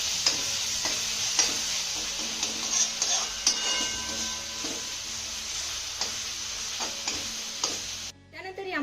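Ground masala paste being stirred into soft sautéed tomatoes in a pan, with a continuous sizzle and repeated ticking spoon scrapes against the metal, close and steady for several seconds.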